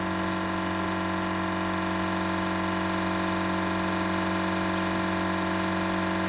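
A Bedini motor built from a hard drive spins at high speed. It gives off a loud, steady, close whine made of many sustained tones, unbroken and even from start to finish.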